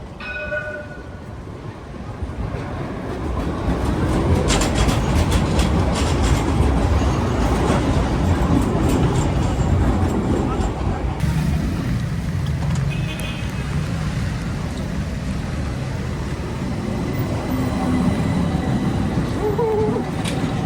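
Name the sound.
trams passing by on Istanbul street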